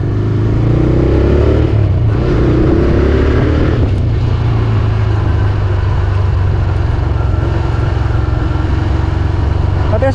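A TVS Raider 125 motorcycle ridden in power mode gives a loud, steady engine drone with shifting pitch as it accelerates, heavy wind rumble running throughout.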